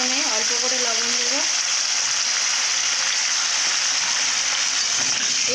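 Meat fries in a pan, stirred now and then, and gives a constant loud sizzling hiss. A voice speaks briefly at the start, then the frying continues alone.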